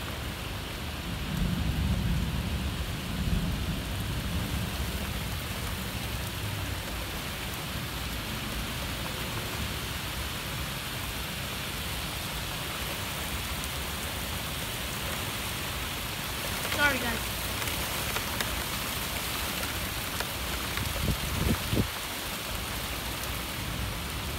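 A severe thunderstorm with rain in Westfield, Massachusetts: a steady, dense hiss of rainfall runs throughout, with low rumbles of thunder early on and a brief crack later.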